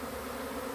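A dense, steady hum of a honey bee swarm flying in to settle on a hive, a continuous buzzing drone with no break and no voices.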